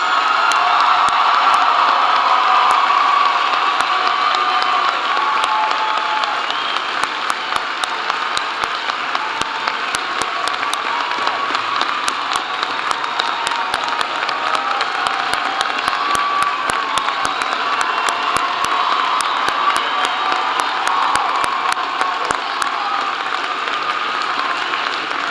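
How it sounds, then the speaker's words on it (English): A large crowd at a graduation ceremony claps steadily with cheers and scattered whoops mixed in, a dense, sustained wash of applause lasting throughout. "please join with me as we honor all graduates with a well-deserved round of applause"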